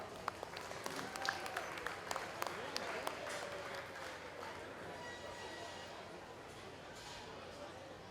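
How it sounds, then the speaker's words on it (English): An audience at a 4-H and FFA market goat show gives a sustained round of applause, with many hands clapping steadily in a large, reverberant space and a voice over the PA. "Let's give our sponsors a round of applause."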